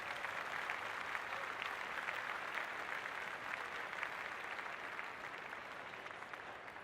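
Large cricket crowd at a T20 match between Australia and West Indies applauding steadily as players walk out, a dense even patter of clapping heard from a distance without pause.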